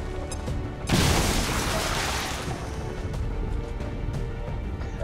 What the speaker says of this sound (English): throwing the grenade can't be that bad